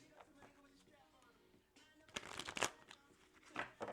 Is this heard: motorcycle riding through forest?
no